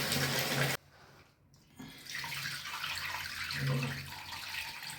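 Running water gushing into a vessel as finger millet (nachni) grain is washed, loud and steady, briefly dropping away before resuming with light sloshing.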